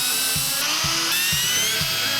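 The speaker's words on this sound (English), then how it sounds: "the holes have been drilled" High-pitched drill whine runs steadily, with four evenly spaced low thuds as the bit pushes through a car bumper, close and loud.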